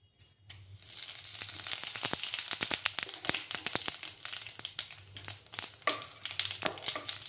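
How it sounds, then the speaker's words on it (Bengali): Whole cumin seeds spit and sizzle in hot oil in a Bengali bottle gourd milk curry, with dense crackling pops running steadily throughout and no voices. "এবার আমি হাফ চামচ গোটা জিরে দেব।"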